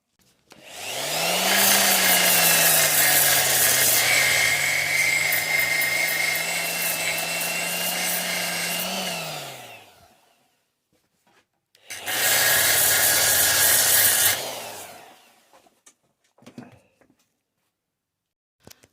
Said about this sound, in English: I've cleaned up all the parts with the finger sander grinder